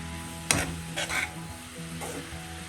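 Cabbage and carrot thoran, a Vishu sadya side dish, is stirred in a pan: three distinct scraping strokes with a low sizzle running underneath, close by and with no talking.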